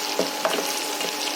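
Ginger pieces sizzle steadily in a hot pan while being fried for a long-keeping ginger pickle, with a couple of soft stirring scrapes over the constant close crackle.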